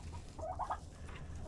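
Chickens cluck softly in a frozen, snowy Alaska winter yard, with a short run of clucks near the middle over a steady low background.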